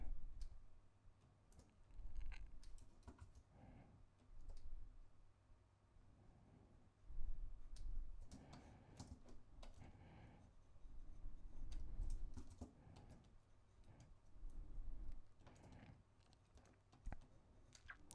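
Computer mouse clicks while editing in Photoshop: faint, sparse clicks and light taps at close range, spread over a quiet background with no talking.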